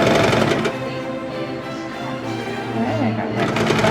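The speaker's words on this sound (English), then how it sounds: "You pull it forward and sew over it, and then that neatens it up." A sewing machine runs steadily while stitching over fabric on a kids' raglan T-shirt, a busy, continuous mechanical whir that slows briefly in the middle before picking up again.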